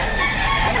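Short clucking from a chicken at an outdoor poultry market, close and fairly loud over busy background noise.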